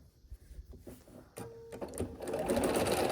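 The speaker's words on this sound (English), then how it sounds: "And when I sew this" A sewing machine stitches white quilt fabric strips together along a quarter-inch seam, starting with a few slow clicks and then settling into a loud, rapid, continuous whirring stitch up close.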